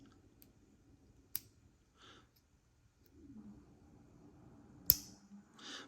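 The clasp of a Steinhart Ocean One Vintage dive watch bracelet snaps shut in a few sharp, close clicks against a quiet background, one of them distinctly crisp and loud.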